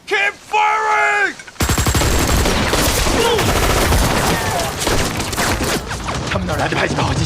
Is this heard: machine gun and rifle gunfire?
yes